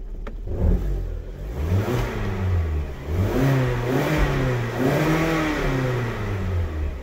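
Kia Sportage 2.4 engine with a shaky, faltering running condition revving up under acceleration, its pitch climbing and wavering in repeated surges, loud and close throughout.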